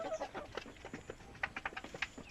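Backyard farm chickens clucking softly and pecking at alternative feed such as moringa leaves, a scatter of quiet, irregular clucks and taps close by with no talking.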